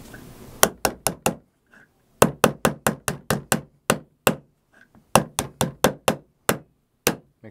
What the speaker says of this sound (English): Make sure you use the nylon side of your hammer.